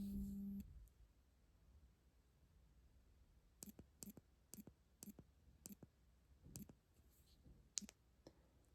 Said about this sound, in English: the button clicking on the Instinct 2X, a little bit louder than the EPIX 2